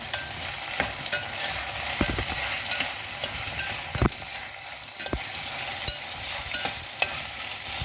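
Onions and small tomatoes sauté in a hot pan with a steady broadband sizzle. A spoon scrapes and clacks against the pan at irregular intervals, with sharp knocks among the stirs. No one speaks.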